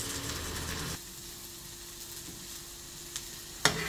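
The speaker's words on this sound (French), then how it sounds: "Et je le grille un petit peu." Bell peppers grill in a hot pan for a pizza topping, giving a steady close hiss and crackle of sizzling, with the level dropping slightly partway through and a couple of sharp clicks near the end.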